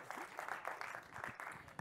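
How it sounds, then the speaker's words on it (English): Applause from an improv comedy audience, a faint, brief patter of many hands clapping in a short burst. "give it up a round of applause."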